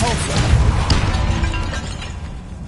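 A Depulso spell impact in the video game Hogwarts Legacy: a sharp burst with a shattering, crashing hit that rumbles and fades over about two seconds, with a voice present.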